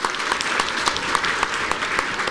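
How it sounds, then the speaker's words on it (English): Audience applause for a team at a 2023 Battle of the Books competition, a steady burst of dense clapping from a crowd, fairly near and continuous for a couple of seconds. "let's give you some big applause"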